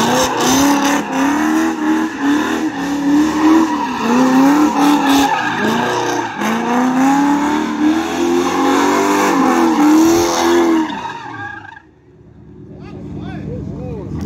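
Car tires squeal and skid in long sustained bursts while drifting with traction control off, the engine roaring loudly beneath, then cutting off abruptly near the end into quieter ambience.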